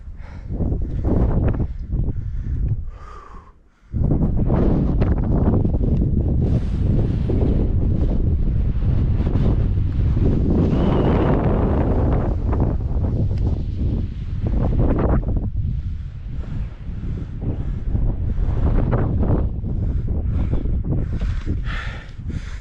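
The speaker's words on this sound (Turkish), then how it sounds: "Rüzgar ayrı bir dert." Strong wind on the summit of Gezit Mountain roars and buffets the microphone almost nonstop, easing briefly near the start before gusting loudly again for the rest of the stretch.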